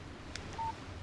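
Short electronic phone chime for an incoming text message in the Alan Wake video game, a brief steady tone over a low background hum.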